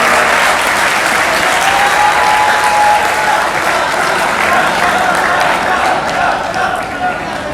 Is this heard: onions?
no